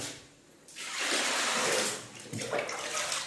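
Water runs steadily from a tap, a close, full hiss that starts after a brief quiet moment and carries on without pause.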